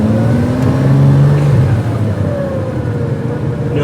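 A 1982 Ferrari 400i GT with a five-speed gearbox runs close by, its engine rising and falling through revs and gear changes in a steady, loud drone.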